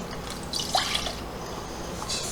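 Water is poured into glasses, a close trickling and splashing pour with a brief rising fill and a second short pour near the end, over a steady background hiss.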